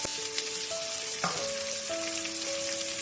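Onions, chillies, garlic and curry leaves sautéing in a pan, a loud, continuous sizzle and crackle over a steady hiss, heard up close with no voices.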